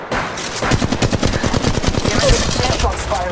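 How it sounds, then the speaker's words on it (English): Rapid automatic gunfire in the battle-royale shooter Apex Legends, a dense, loud stream of close shots with a steady rhythm that keeps going for the whole stretch. "Shots fired at me."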